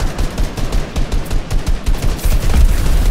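Rapid automatic gunfire rattles nonstop in a battle royale video game, loud, close bursts fired into the floor that blur into a continuous fusillade with no voices over it.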